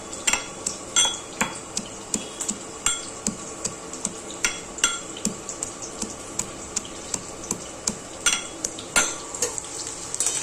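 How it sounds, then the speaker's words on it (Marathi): Onion fries in a pan for spicy Puneri misal while a metal spatula scrapes and taps it in a quick, steady rhythm, close and clear over a low continuous sizzle. "तोपर्यंत इकडे कांदा पण चांगला भाजून होतोय."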